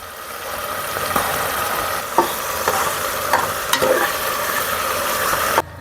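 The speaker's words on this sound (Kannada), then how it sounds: "ಟೊಮೊಟೊ ಫ್ರೈ ಆಗ್ತೈತೆ, ಇನ್ನೊಂದು ಸ್ವಲ್ಪ ಚೆನ್ನಾಗಿ ಫ್ರೈ ಆಗಲಿ." Tomatoes frying in a pan give a continuous close sizzle, broken by several sharp clicks and scrapes of stirring, then an abrupt stop at the end. No voices are heard.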